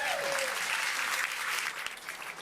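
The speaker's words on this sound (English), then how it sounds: "let's stand up and applaud for Melinda." A standing audience at an anniversary celebration claps steadily, a close, continuous patter of applause that holds level and eases slightly near the end.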